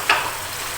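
Moong dal mangodi fry in masala in a pan with a brief sizzle. A soft stir comes at the start, then a low steady frying hiss.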